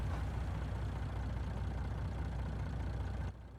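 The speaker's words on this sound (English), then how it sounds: "And there is a truck running somewhere." Truck engine idling somewhere outdoors, a steady low rumbling drone held at moderate distance, continuous until it drops off near the end.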